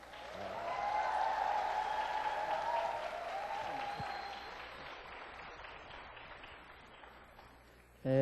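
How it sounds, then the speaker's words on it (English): A church congregation claps, swelling quickly then gradually thinning and fading over several seconds, with a brief tonal voice-like sound early on and a sudden loud noise at the very end. "박수까지 쳐주셔서 감사드립니다"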